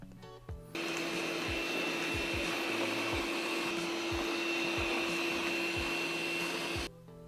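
A Laresar L6 Pro robot vacuum hums in a steady, close whine for several seconds and then switches off. Faint low bumps run underneath, and no one speaks.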